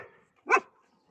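A single short dog bark rings out once, fairly faint and brief, in an otherwise quiet farmyard setting.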